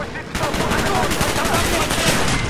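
Sustained automatic gunfire in Call of Duty Black Ops, a loud, fast stream of shots kicking in abruptly after a brief quieter moment and hammering on steadily, with shouting voices partly under it.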